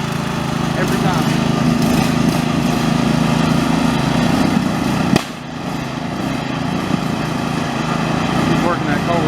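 A lawn mower with a Kohler engine runs loud and close at a steady high-revving drone, with a brief sharp bang partway through and a slight dip in pitch afterward, no voices.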